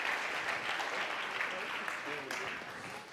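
Audience applause at the close of a French panel session on recruiting and training, dense steady clapping through the whole stretch with some voices mixed in, tapering slightly at the end.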